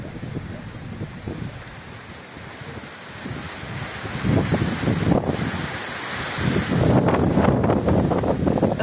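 Strong wind buffets a 12-blade wind turbine whose blades are turned sideways, a steady broadband roar that swells in gusts and grows louder toward the end, with no voices.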